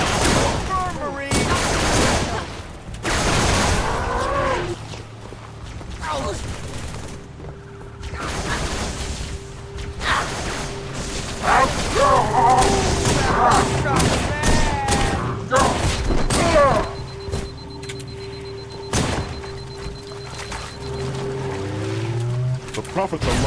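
Halo 3 battle on the Sierra 117 level: bursts of rifle fire and heavy thumps and booms come and go among game voices shouting orders, with engine drone and combat noise rising and falling throughout.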